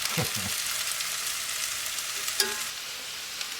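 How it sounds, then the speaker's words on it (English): Red potatoes fry in a pan at a tent cooking setup, making a steady, close hiss of sizzling oil broken by a few soft clunks of stirring. "I always like doing my fried potatoes using red potatoes."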